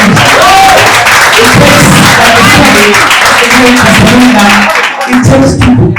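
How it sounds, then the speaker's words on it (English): Audience applause at a press event, a dense, steady patter of clapping that fills the whole stretch, mixed with crowd noise and voices talking over it, briefly thinning near the end. "So please give a round of applause to our"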